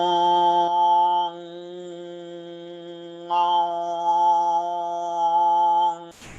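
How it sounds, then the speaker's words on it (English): One person overtone sings, holding a steady nasal fundamental while a second, higher whistling overtone from the mouth rises above it, in long sustained phrases with brief breaths. "while I'm doing the tone through my nose, I'll bring a second tone through my mouth"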